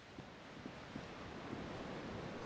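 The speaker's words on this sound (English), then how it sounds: "Waves crashing in the darkness." Waves crash steadily in the darkness in Disco Elysium, a constant wash of surf and wind with soft recurring swells, moderately loud and with no voices.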